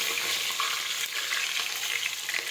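Chopped chillies hitting hot oil already crackling with mustard seeds, cumin and curry leaves, giving a loud, steady sizzle and spatter throughout, with no voices.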